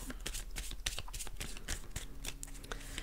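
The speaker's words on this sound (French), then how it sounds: "on va tirer les cartes du tarot" Tarot cards being shuffled and drawn by hand, a steady run of soft papery riffles and light taps, close up with no talking.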